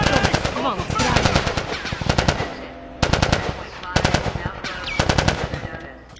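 Automatic gunfire in The Last of Us Part 2 during a fight with the Fireflies, loud, close bursts of rapid shots separated by short pauses, with a voice faintly in the background.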